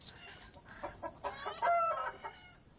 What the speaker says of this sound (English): what's going on with the chickens?